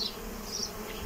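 Honey bees from a small swarm trap buzzing at a hive, a short, even, continuous drone heard up close with no speech.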